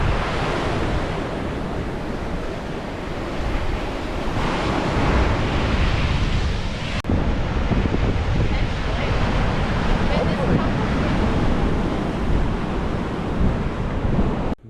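Waves rolling onto the beach at the Bay of Fires in Australia, a loud, continuous wash of surf with wind buffeting the microphone throughout.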